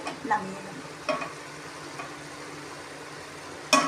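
Mushrooms fry in a pan as their released water cooks off, giving a steady soft sizzle with a few brief stirring scrapes and clinks, one sharper near the end; no one speaks.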